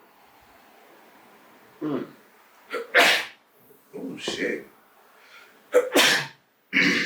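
A few loud, sharp sneezes burst out close by amid quiet moments, with a voice speaking briefly between them.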